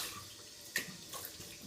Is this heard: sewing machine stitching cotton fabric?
no